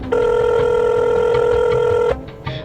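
A telephone rings in one steady electronic tone for about two seconds, loud and alone, then cuts off abruptly, leaving faint room noise and a brief soft sound.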